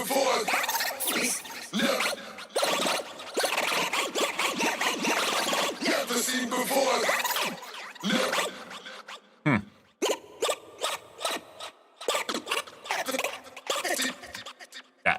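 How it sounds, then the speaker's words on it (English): DJ scratching in harder-styles dance music production: dense, gritty scratch bursts and rapid back-and-forth record noises, continuous for several seconds, then choppier stuttering scratches after a brief cutout, moderately loud and close. "just try to get some scratching done"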